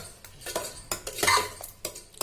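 Tomato dal with added salt being stirred in a pot, a spoon clinking and scraping against metal in several sharp, irregular strokes, close and fairly loud, with no voices.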